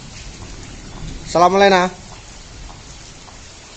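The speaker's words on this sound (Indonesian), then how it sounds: "Hujan ya guys." Steady rain hisses in the open at a flooded spot in Nganjuk, a soft, even wash of noise throughout. A man's brief spoken greeting rises over it midway.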